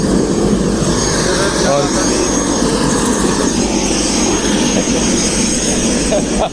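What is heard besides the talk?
helicopter engine noise after landing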